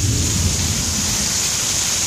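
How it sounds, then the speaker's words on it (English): Heavy rain pours steadily during a severe thunderstorm in Austin, Texas, with a deep rumble of thunder underneath, loud and close throughout without talk. "We're under a severe thunderstorm."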